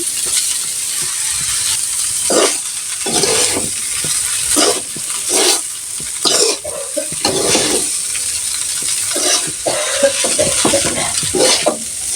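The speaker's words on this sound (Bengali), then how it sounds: "দিব সে যে এখন নেড়ে দিচ্ছি" Noodles with egg and carrots being stirred in a hot pan, a loud sizzling hiss broken by repeated rhythmic scrapes and clanks of a spatula, close up with no speech.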